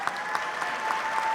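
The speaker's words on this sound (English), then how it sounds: "let's give them a round of applause" Steady applause from a seated audience at a brunch gathering, honoring elected officials, a continuous patter of many hands clapping at moderate distance without speech.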